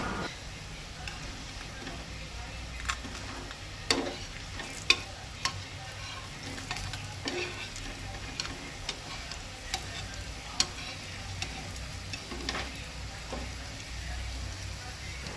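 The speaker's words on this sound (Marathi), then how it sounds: "आतां परत ती धांपून परत दुसरे सायडीक 5 मिनटां भाजून घेवंक जाय, मागीर जाली ती कापां भाजून" Slices of breadfruit, Goan-style nirphanas kapa, fry in a pan with a steady low crackle and sizzle, dotted with sharp scattered pops and ticks throughout, close and fairly quiet.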